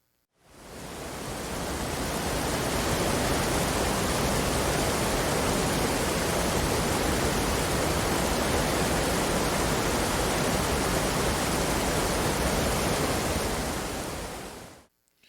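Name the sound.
waterfall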